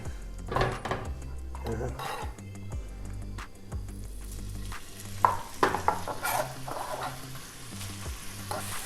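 Bacon sizzling in a little olive oil in a hot pan, a steady crackle close by, broken by scrapes and taps as the strips are pushed apart, with a voice talking faintly over it.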